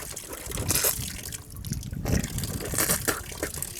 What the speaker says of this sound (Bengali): ভালোভাবে ধোয়ার পরে আমাকে 3বার কুলি করতে হবে।